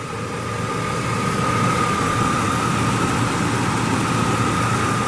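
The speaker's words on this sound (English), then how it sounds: "That engine, no misfire anymore. It's just sit there, runs smooth." A 1998 Chevrolet Silverado engine idles steadily and smoothly with no misfire, a continuous low rumble with a faint steady whine above it, holding an even level throughout with no talking.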